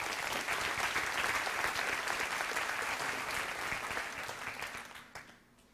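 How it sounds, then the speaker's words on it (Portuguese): A church congregation applauds during a sermon, a dense, sustained wash of many hands clapping that holds steady and then tapers off near the end, with no voices over it. "Pode aplaudir também."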